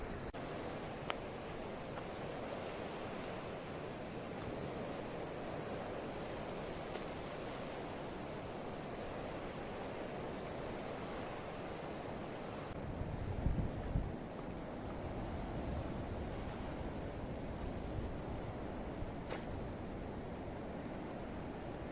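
Sea waves wash steadily onto a beach as the tide comes in during crab trapping, a constant broadband surge with a slight lift in the middle and no voices.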